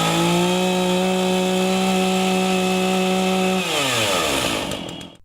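A chainsaw cuts through wood at full throttle, a loud steady high-pitched engine whine that holds for several seconds, then drops in pitch as the engine slows toward idle near the end. No voices.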